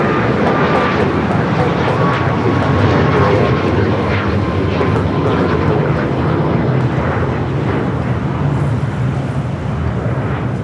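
A Boeing 767-300ER jet roars steadily at LAX, a loud, continuous broadband engine rumble that holds throughout, with faint talk underneath.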